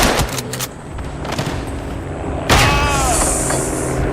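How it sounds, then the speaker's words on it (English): An enemy grenade blasts in the World War I shooter Tannenberg, a loud sharp boom midway amid scattered distant gunfire and explosions of battle. "Oof, that was a grenade. That was an enemy grenade, so it doesn't hurt me."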